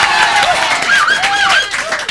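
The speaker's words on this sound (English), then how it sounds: "if the audience cheers real loud" Studio audience on a 1993 local morning talk show cheering and applauding loudly, a dense continuous roar of claps and shouts with voices rising above it throughout.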